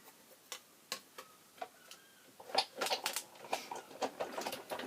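A card being fed through a cutting machine, first giving sparse faint ticks, then a denser run of sharp clicks and crunches as it cuts, close and fairly quiet.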